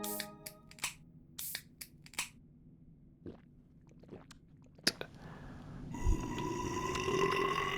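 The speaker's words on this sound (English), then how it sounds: "lovely burp there." Game character in Metro Sim Hustle letting out a burp, a short guttural belch following a run of sharp clicks and taps, then a rising hum of background noise.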